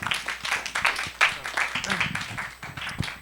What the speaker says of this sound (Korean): 우리 박수로 맞도록 하겠습니다.